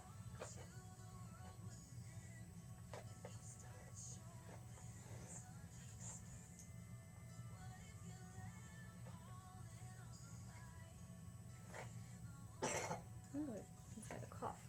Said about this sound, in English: He's got a cough.